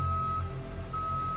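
A reversing beeper on a truck sounds as a steady, piercing electronic tone that holds and repeats over a low background rumble. It is moderately loud and carries no talk.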